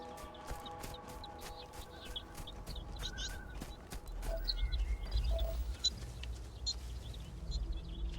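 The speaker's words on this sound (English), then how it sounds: "Something's chirping at me." Chirping from an unseen creature in the video game Starfield: short, bright chirps repeat through the clip over a steady low rumble of game ambience.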